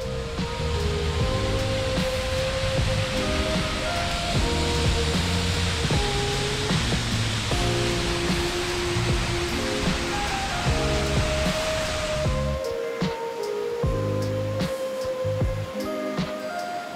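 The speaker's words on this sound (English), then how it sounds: "I can hear waterfalls." A waterfall near a forest hiking trail at Robertson Falls on Vancouver Island gives a broad, steady rushing roar under a melodic music track, thinning out in the final seconds.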